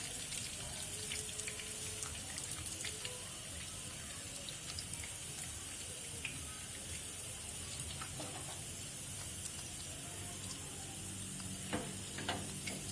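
Garlic browning in a pan of oil, a steady hissing sizzle throughout with faint crackles and occasional small clicks, no talk.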